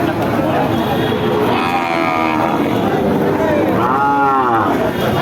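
A native desi cow at a busy cattle market lets out two drawn-out moos, the second louder and closer, over a constant crowd murmur and chatter.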